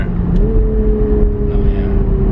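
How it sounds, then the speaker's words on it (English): Engine of a 2020 Toyota Supra MK5 rising in pitch as it drops a gear, a loud steady drone with a sharp step up early on, heard close from inside the car with no talk. "Downshift a couple times here."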